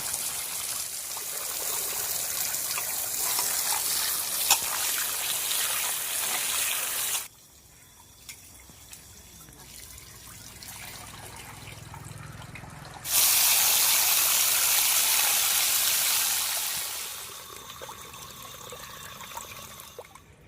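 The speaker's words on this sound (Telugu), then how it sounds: "మటన్ రెండు మూడు సార్లు శుభ్రంగా కడుక్కోవాలండి" Running water splashes over mutton being washed for a village-style curry, coming in hissing bursts with a quieter gap in the middle before a stronger gush that gradually tapers off.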